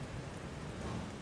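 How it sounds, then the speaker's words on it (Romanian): Steady rain falls in the video game Kingdom, a dense, even hiss of drops that holds constant and fairly quiet for a brief moment with no voices. "Plouă, nici nu mai vedem soarele."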